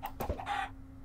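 A chicken in the video game Sky Factory 3 gives a short, close cluck over a faint background hum, a single brief call.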